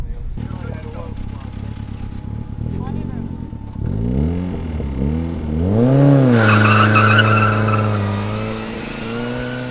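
A 16-valve 1100cc K-series turbocharged classic Mini's engine revs and rises in pitch as it accelerates hard at an auto test, with a sweeping turbo whine building toward the end; a voice talks early on.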